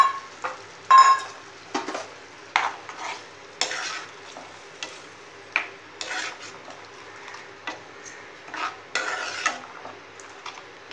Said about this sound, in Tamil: அந்த புளிக்கரைசல் விடுவோம்